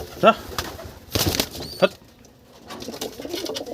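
Pigeons scuffle with bursts of flapping wings and short coos, close and brief, while someone speaks over and between the flurries.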